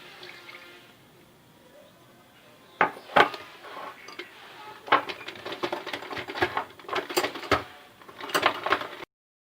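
Whipped cream powder, 100 grams, is stirred by hand into 100 millilitres of cold water, giving soft, irregular clinks and taps of a utensil against a bowl that pick up pace midway through.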